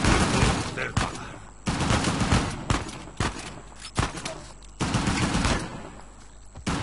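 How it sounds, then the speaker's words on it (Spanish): A pistol gunfight in the video game Uncharted: The Lost Legacy, with rapid, dense volleys of gunshots in repeated bursts, several sharp cracks standing out over a steady background of in-game noise. "Esta es la primera intervención con pistola que tenemos en el juego"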